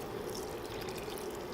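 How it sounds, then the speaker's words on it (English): About four cups of water poured into a pot of beef barley soup, a faint, steady splashing trickle lasting under two seconds with no talk. "I'm adding about 4 cups of water right now."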